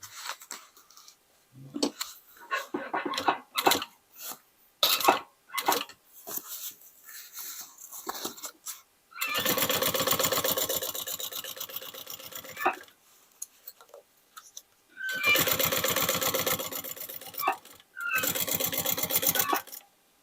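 A sewing machine stitches a denim bag shoulder strap made from old jeans, running in three bursts of rapid stitching after a stretch of clicks and handling sounds, close by and without talk.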